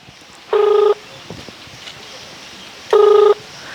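Telephone tones sound as a call is placed: two clear electronic beep bursts, each under half a second, spaced a couple of seconds apart over quiet background noise.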